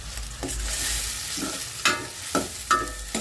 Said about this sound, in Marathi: आता त्यात टाकूया आपण लसणाची पेस्ट